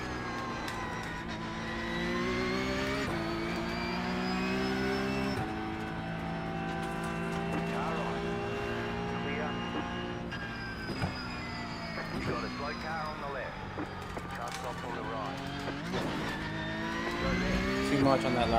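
A race car engine in a racing video game at Imola drones loudly and continuously, its pitch sweeping up and down as it downshifts and revs through the gears.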